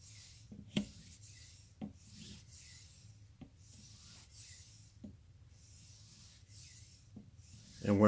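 A knife edge is drawn across lapping film on a TSPROF Blitz 360 sharpener in slow, regular rubbing strokes, a soft close hiss with light ticks as each pass begins.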